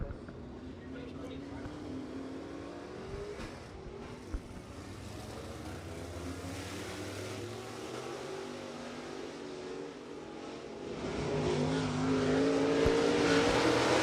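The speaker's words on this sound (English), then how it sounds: "All these other cars, of course, Roger Lucas exiting the track, Sean Harrell" Race cars at County Line Raceway drone steadily in the distance with engines swelling louder near the end, while an announcer talks over a PA system.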